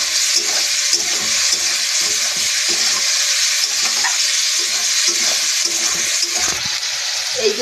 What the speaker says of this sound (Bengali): এইগুলো দিয়ে এবার সুন্দর করে ভেজে নেবো